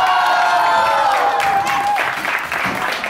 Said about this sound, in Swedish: stor applåd för alla våra deltagare